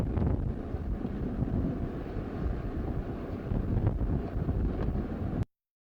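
Gusty wind roars during the 1978 blizzard, a dense, continuous low rush buffeting the microphone that cuts off abruptly near the end.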